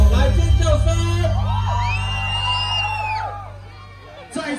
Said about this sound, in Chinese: 来尖叫声！